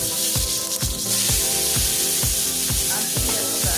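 Fresh garlic, onion, sweet pepper and thyme fry in a hot pan with a steady, close sizzle, overlaid by a repeating regular thumping beat of roughly two hits per second.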